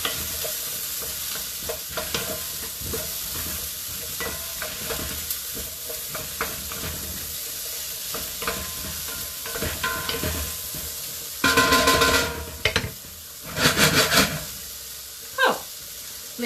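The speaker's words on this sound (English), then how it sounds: "we're going to give it a really good stir with my wooden spoon." Tofu shakshuka sizzles in a pan while a wooden spoon stirs it, giving a steady frying hiss with scraping strokes and louder bursts of stirring near the end.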